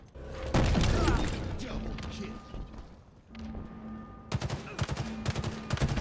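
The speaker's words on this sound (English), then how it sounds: "That is a rocket." Rocket launcher fire in the Halo Infinite video game: heavy booming blasts and explosions amid a busy run of rapid gunfire, steady and loud throughout, with a low game tone droning underneath and people talking over it.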